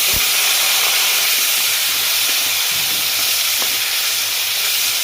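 Onion dropped into hot oil spiced with turmeric, giving a steady, loud broadband sizzle and hiss that carries evenly throughout with faint stirring knocks and no voices.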